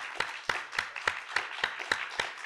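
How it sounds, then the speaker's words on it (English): An audience applauds panelists at an event celebrating Tom Dent, heard as a sparse, evenly spaced run of distinct claps, roughly four per second, close and moderately loud with no voices. "a round of applause for our two panelists today"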